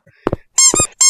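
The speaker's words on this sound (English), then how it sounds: "I hate that squeaking" High-pitched squeaks from the video game Big Scary, two sharp bursts repeating close and loud, interleaved with short spoken syllables.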